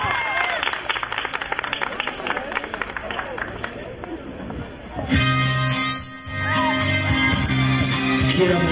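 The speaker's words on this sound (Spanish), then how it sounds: "Un aplauso para él, por favor." An audience applauds at the close of a singing workshop as a singer is brought to the stage. Loud, steady clapping starts suddenly partway through and follows a stretch of a voice speaking over light background noise.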